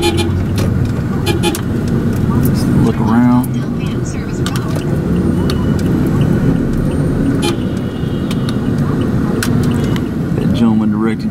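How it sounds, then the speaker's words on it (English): Dense Manila street traffic with car horns tooting now and then over a steady roar of engines, with people talking close by throughout. "anytime you go anywhere in Manila, traffic's a nightmare"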